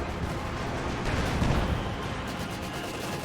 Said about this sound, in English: Oh, it's from the Soviet mortar.